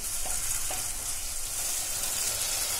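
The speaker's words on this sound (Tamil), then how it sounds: "ஒரு மூணு நிமிஷம் நல்லா வதங்கட்டும்" Beetroot sautéing in a pan for beetroot rice, a continuous bright hiss of frying with a couple of faint taps from stirring, close and steady.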